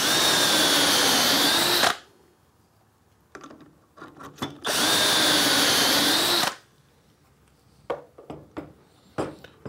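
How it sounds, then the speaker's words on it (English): A power drill bores dowel holes through a Dowelmax jig in two loud, sustained whining bursts of about two seconds each, separated and followed by clicks, knocks and handling noises. "Drill the first two holes."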